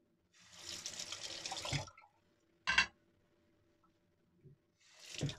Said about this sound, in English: I'll just do a face wash.